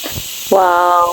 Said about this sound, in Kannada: ಫೈನಲಿ ವಿಷಲ್ ಆಯ್ತು.